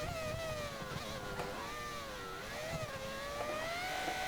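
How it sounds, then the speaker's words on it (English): A Formula One race car engine in F1 2013 at Imola, screaming at full throttle with a high, sustained whine that rises and dips through the gears, loud and alone. "Hard and throttle now, hearing the engine absolutely scream"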